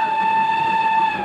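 A steam train sounds a sustained steady whistle over a rumbling rail background, loud and continuous through the short moment.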